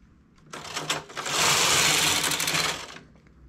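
A domestic knitting machine carriage is pushed across one row of a jacquard cardigan, a single rapid mechanical clattering rattle that builds in about a second, holds, and fades, heard close and alone.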